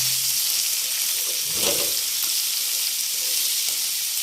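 Sliced onions sizzle steadily in a hot pan, a constant bright frying hiss with a brief scraping stir partway through. No voices.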